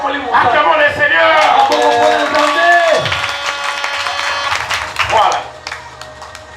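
A church congregation claps and acclaims together, loud applause and mixed voices that swell and then gradually thin out.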